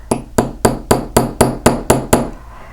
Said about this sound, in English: I'm going to come in with just you want a light hammer and a light touch.